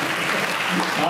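Big round of audience applause at a school function, a steady dense wash of clapping with some voices mixed in throughout.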